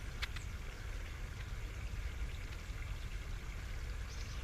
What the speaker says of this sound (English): See if you can just hear that water running inside there.